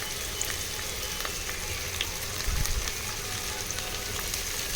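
Potatoes and carrots fry in a pan with a steady, close sizzle that stays even throughout, joined midway by a brief low rustle of stirring.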